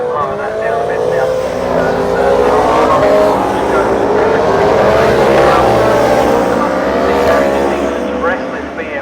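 BMW racing motorcycles pass continuously on the Castle Combe circuit, a loud sustained engine roar with shifting pitches as a group of bikes goes by, with a commentator talking over it.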